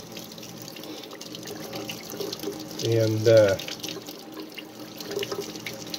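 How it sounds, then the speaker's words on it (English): Warm water runs from a tap in a brief, fairly close burst to soak a leather holster. It starts and stops within about a second, with a voice speaking quietly before and after. "next step is to soak this holster with water. I'm using warm water."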